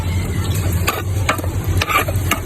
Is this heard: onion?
yes